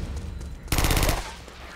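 Gunfire from a shotgun enemy in Uncharted: Drake's Fortune, with one loud blast and a dense, roaring burst of shots lasting about half a second, then fading into a low background.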